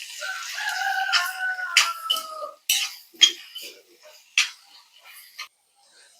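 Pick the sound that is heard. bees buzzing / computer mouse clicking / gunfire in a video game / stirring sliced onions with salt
stirring sliced onions with salt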